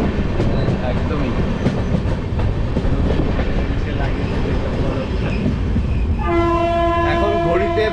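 A Humsafar Express train runs loudly and steadily with dense rumbling rail noise, and near the end a long, sustained horn blast sounds over the clatter.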